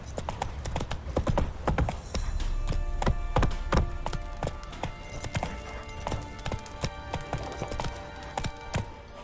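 Roach, a horse in The Witcher video game, gallops with fast, steady clip-clop hoofbeats that stay loud and close throughout, over a low game soundscape.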